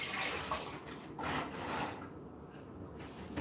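Water poured into a pot while cooking a simple lunch, a steady soft splashing rush that is fairly faint and close, with no talking.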